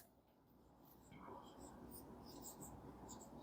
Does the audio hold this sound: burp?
no